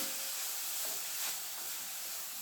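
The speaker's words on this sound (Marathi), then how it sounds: "आता हे बघा तूप गरम झालेलं आहे छान आता मी जो किस केलेला आहे तो टाकत आहे" Grated amla roasts in hot ghee with a loud, steady, close sizzling hiss that holds evenly throughout, swelling slightly in the middle, with no voices.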